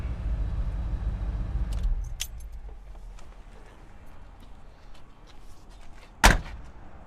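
The door of a square-body Chevy pickup shuts with a single solid thud near the end, preceded by low engine rumble that fades out and small handling clicks and rattles.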